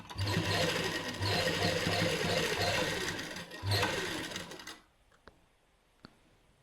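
A sewing machine stitches lace onto a lined suit sleeve, running loud and close in a fast continuous whir with a brief pause, then stopping, leaving a few faint clicks in near silence.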